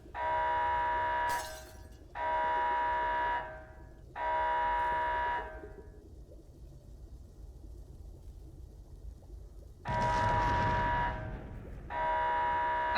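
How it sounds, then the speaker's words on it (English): A harmonic buzzing alarm in a laboratory soundscape sounds in repeated on-off pulses of about a second each. A quieter gap with a low background hum falls between the bursts, and then the alarm resumes loudly. "I think that alarm needs to come in slightly later"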